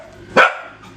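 One sharp dog bark rings out nearby outdoors, a short loud burst against quiet background hum, with no further barks following.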